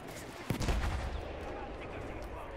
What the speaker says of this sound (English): Damn, mortar strikes.